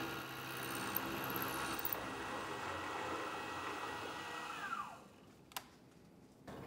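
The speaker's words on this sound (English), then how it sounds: "I'm just gonna mill the entire last 100 thou at once" A PM-728VT milling machine cuts a slot in one deep pass, giving a steady whirring, grinding drone that winds down near the end, followed by a single sharp click and quiet room hiss.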